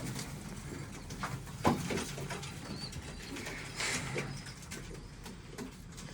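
Large fancy pigeons of Polish, Siberian and Omsk breeds cooing in a loft, faint low coos blended into a quiet background with a brief clatter, and no talk.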